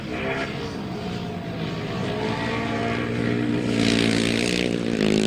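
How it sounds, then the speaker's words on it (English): Grasstrack racing motorcycles at a 2002 Sussex event accelerate out of a turn, a dense, steady engine roar that rises toward the end, heard from trackside without talk. "round the turn they come, winding up those throttles"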